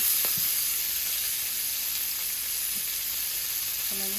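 Onion and green chili frying in hot oil make a loud, steady, close sizzle with a constant bright hiss throughout and a faint stir or clink near the end, with no talk.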